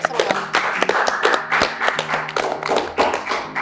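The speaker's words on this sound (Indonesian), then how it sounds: "Tepuk tangan dulu buat korban jawaban." A short burst of hand clapping from a small group in a talk-show studio, brisk irregular claps with some tapping, mixed with voices chatting over it.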